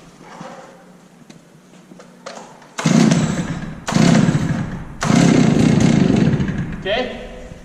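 Chainsaw without a decompression switch being pull-started with choke out, several short bursts of a loud two-stroke engine catching and sputtering before a sustained run, after quieter handling noises and speech.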